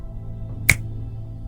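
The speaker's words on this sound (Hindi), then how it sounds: "जब आपको चुटकी की आवाज सुनाई देगी तो आप हिप्नोटाइज हो चुके होंगे।" A single sharp finger snap rings out once, crisp and close, against a quiet background with a low steady hum.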